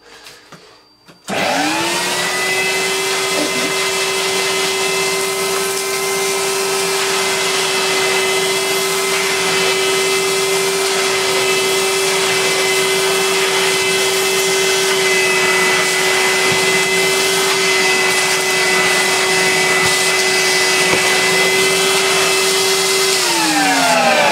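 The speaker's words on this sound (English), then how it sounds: "try out this floor tool on the machine with some actual suction" A Goblin Rio 800 vacuum cleaner with its floor tool switches on after a brief quiet moment, then runs loud and steady close by as an unbroken motor whine and airflow roar with no talking.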